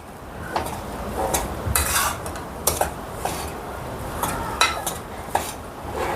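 Dry date powder roasting in a little ghee while a spoon stirs it, scraping and clinking against the pan in irregular taps over a soft background hiss, with no talking.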